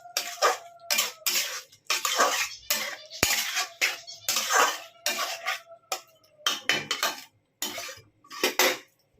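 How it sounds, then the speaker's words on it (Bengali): A metal spatula scrapes and clatters against a cooking pan as fried pointed gourd is stirred, in repeated irregular bursts of scraping with short pauses between them, close and clear with no voices. "দিয়ে আমি একটু নাড়াচাড়া করে নিচ্ছি।"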